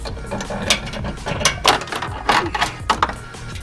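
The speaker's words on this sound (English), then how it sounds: "I gotta undo my little hook here" Metal hook being undone in the engine bay of a Land Cruiser during a battery install, heard as close, loud clicking and ratcheting rattles in quick irregular succession.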